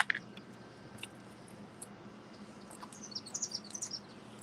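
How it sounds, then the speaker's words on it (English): Small birds chirp faintly outdoors under a clear sky, with a quick early call and a cluster of thin, high tweets near the end over a soft, steady background hum. "Oh, I hear some birds too."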